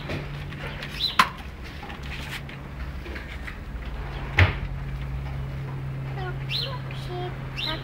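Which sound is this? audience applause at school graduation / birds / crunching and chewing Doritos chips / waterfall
birds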